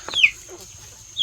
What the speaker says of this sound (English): It's chirping for mama.